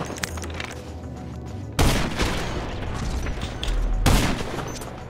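Video game battle noise: heavy grenade blasts and bursts of gunfire. Two loud booming waves hit in sequence over continuous rattling fire, close and dense.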